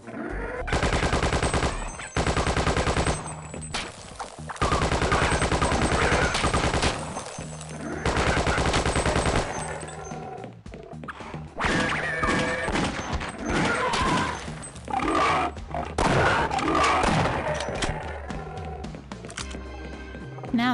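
Repeated shotgun blasts from a Half-Life mod game, loud bursts in rapid clusters with brief gaps, mixed with game sound effects and some talking.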